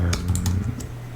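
Fast, irregular clicking of typing on a computer keyboard in a medical office setting, close and fairly quiet over a low background hum, with no talk.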